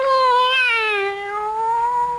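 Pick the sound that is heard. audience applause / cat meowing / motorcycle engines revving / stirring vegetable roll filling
cat meowing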